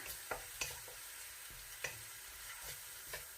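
Chili stir-fried in a pan for a Thai basil shrimp stir-fry, with a steady sizzle broken by several sharp scrapes and clacks of a spatula against the pan, close and without any talk.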